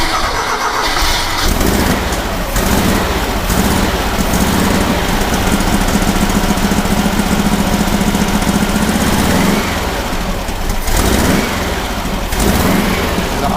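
Rebuilt 1959 dune buggy engine cranks, catches and settles into a loud, steady, close-up running rumble that lasts throughout, with no talking.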